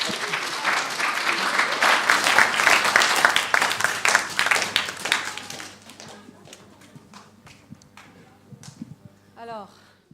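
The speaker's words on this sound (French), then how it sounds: "On peut les applaudir, hein." An audience at a church service claps, a dense burst of applause that swells for several seconds and then thins into scattered claps, with a few voices audible as it fades.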